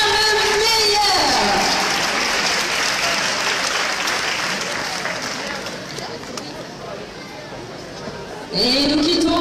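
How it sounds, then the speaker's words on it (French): An audience at a manga cosplay contest applauds the contestants with dense clapping. A presenter's voice is heard at the start and again near the end, and the clapping thins slightly before the voice returns. "Applaudissez-les très fort, s'il vous plaît!"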